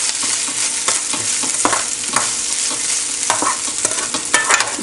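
Garlic and ginger sizzling in hot oil in a pan while being stirred, a steady loud fry hiss broken by regular scraping strokes of the utensil, close with no talking.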